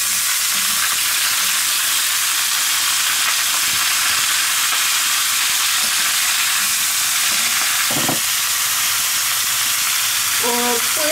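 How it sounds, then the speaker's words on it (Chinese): Star anise frying in hot oil in a wok makes a loud, dense, continuous sizzle and hiss, close up, with a couple of brief clatters near the end. "放一点大茴，也就是八角，闽南话管它叫八角，给它爆香"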